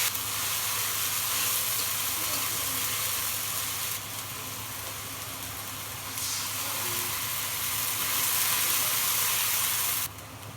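Ground spice paste hits hot oil with whole cumin and fried onion in a pan, giving a loud, steady hiss and sizzle that holds throughout, dipping briefly partway and again near the end, with no talking.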